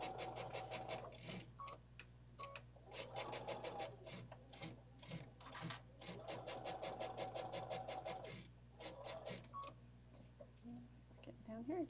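Sewing machine stitching fabric in quick rhythmic bursts, pausing and restarting several times, fairly faint, with a steady low hum underneath and occasional speech nearby.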